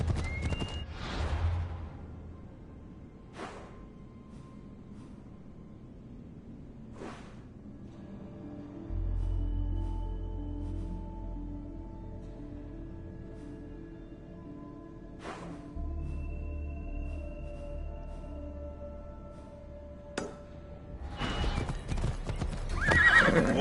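A horse in Assassin's Creed Odyssey clip-clops in short bursts and neighs several times, including a loud whinny near the end, over a quiet game ambience.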